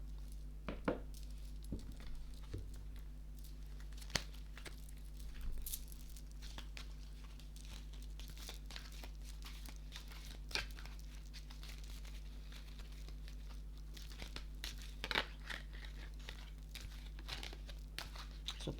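Small heart-shaped oracle cards are shuffled by hand, giving faint, continuous papery rustling and light clicking over a low steady hum, with no talk.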